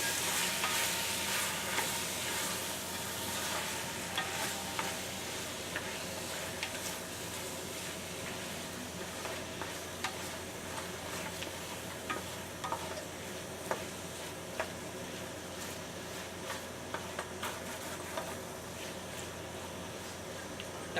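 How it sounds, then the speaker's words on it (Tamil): Tomatoes sauté in a pan for egg curry, a soft steady sizzle with faint scraping and clicking from stirring, quiet and continuous with no talking. "தக்காளியை போட்டு நல்லா கிண்டிடலாம்."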